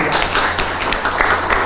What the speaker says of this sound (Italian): Un applauso alla nostra Maria.